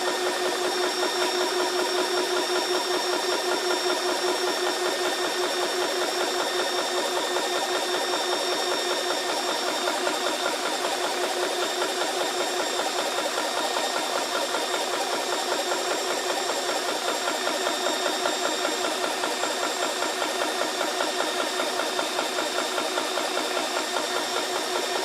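GX Pump L3 portable PCP compressor running steadily, a close, loud, continuous mechanical hum with a rapid rhythmic pumping pulse and high whine throughout, no talk.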